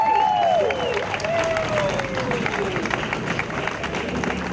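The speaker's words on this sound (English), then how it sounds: "Let's give a big round of applause for all of our sponsors." Outdoor crowd applause for the sponsors at the Greater Lansing Heart Walk opening ceremony, moderately loud clapping and cheering mixed with crowd noise and some whistle-like tones, continuing for a few seconds.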